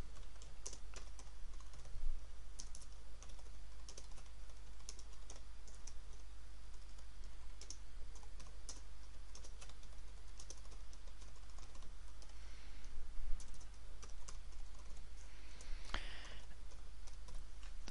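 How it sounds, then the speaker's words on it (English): Continuous typing on a computer keyboard while writing an email body in Outlook 2010, a steady stream of quiet, close key clicks with occasional louder taps and no talking. "Now in the body of the email I type the text,"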